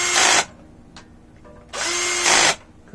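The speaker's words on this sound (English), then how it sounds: "Got my drill on a very low setting there, very low indeed." An electric drill running on a very low setting during a Yamaha XJ650 clutch rebuild, whirring in two short loud bursts close by, with a brief pause and a small click between them.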